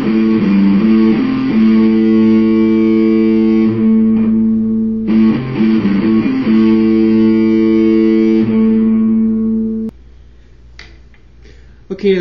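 A distorted electric guitar plays the Prodigal Son riff. Loud, close power-chord phrases repeat twice with palm-muted chugs between, then the sound cuts off and a few faint clicks follow.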